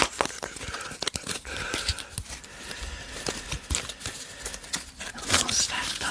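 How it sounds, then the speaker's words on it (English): Tarot cards being shuffled by hand without a table, crisp papery slaps, riffles and crinkles in an irregular close-up rhythm, with soft rustling between bursts. "Shuffle them"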